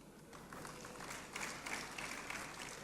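Audience applause and cheering at the grand launch of Mfantsipim School's 150th anniversary in Ghana: a sustained, dense wash of clapping that swells partway through, heard from a moderate distance with no speech over it.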